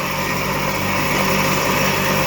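A 5.5 kW electric motor spinning at 3,500 rpm drives farm equipment, giving a loud, steady whine and hum with constant broadband noise and no speech.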